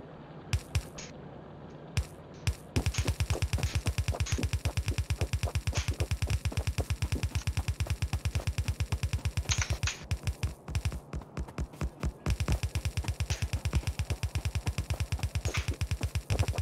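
Gun turrets in Factorio fire in a rapid, evenly spaced stream of sharp shots: a few scattered bursts first, then continuous automatic fire that barely pauses, loud and close.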